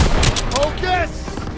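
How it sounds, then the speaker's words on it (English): An enemy machine gun fires a rapid burst in a Call of Duty WWII battle, loud and close amid battle noise, while a voice shouts over it. "Daniels, hit that MG!"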